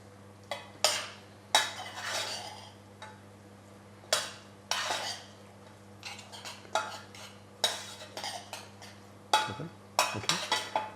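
A spoon scrapes and clinks against a bowl while mixing sweet or savoury picnic tartlet filling with cheese, with repeated sharp taps and stirring strokes at a brisk, irregular rhythm, close and alone.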